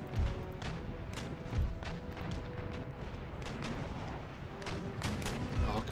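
Cannon artillery fires round shot in the video game Empire Total War during a naval battle between sailing ships, producing a rapid series of deep booms over a continuous rumbling din.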